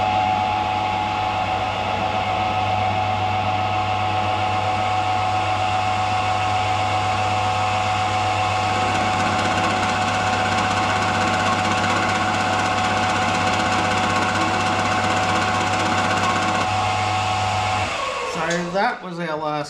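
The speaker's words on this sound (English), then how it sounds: "time to go and set the milling machine up and machine up some nuts" A milling machine cutting nuts for the fork gaiters of a BSA Bantam D7, a loud, steady droning whine with a low hum running continuously before the motor winds down at the end.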